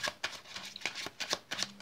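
A deck of playing cards is shuffled in a series of crisp riffling bursts, about seven in quick succession, loud and close with no talking.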